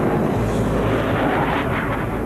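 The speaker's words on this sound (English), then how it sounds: "The four-jet diamond formation is coming together and flying tighter." Blue Angels jets flying together in a tight four-jet diamond formation, a loud, steady, broadband engine roar that fills the whole short stretch without a break, with no voices.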